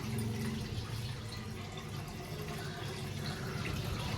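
Water pours steadily into a cooking pot in a home kitchen, a continuous splashing rush that runs unbroken and fairly close for the whole stretch, with no voices over it.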